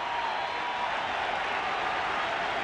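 A large stadium crowd roars steadily at a 1993 NLCS playoff baseball game, Braves at Phillies, as a broad, sustained wash of cheering with no breaks.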